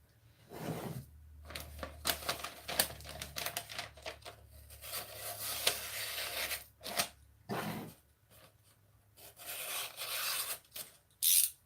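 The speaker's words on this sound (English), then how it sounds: "you can take scissors or an X-Acto knife or whatever. Just slice your edges down." Scissors or an X-Acto knife trimming the edges of a soap mold lining, giving a series of short rasping, scraping cuts in uneven bursts with brief pauses between, close and fairly quiet.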